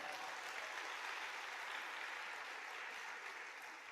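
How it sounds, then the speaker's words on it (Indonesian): Clapping from an audience at a business seminar, a steady wash of hands heard fairly quietly and at a distance for a few seconds, fading slightly toward the end. "Makanya tepuk tangan buat Tiansi"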